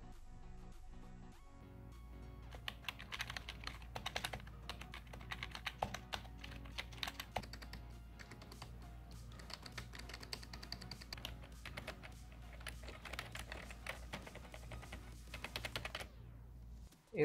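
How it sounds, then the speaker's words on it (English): Keys on a K33 LED backlit gaming keyboard clicking in steady bursts of typing, fairly quiet and close, with no voices. "This is a clicking sound comparison with other membrane keyboards."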